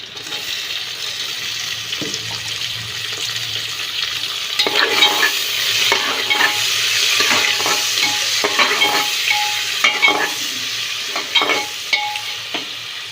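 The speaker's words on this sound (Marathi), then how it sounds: "कांदा भाजलाय छान असा." Onion and tomato fry in a pan under a constant close sizzle, broken by repeated scraping stirs and the occasional clink of a utensil, with no talking.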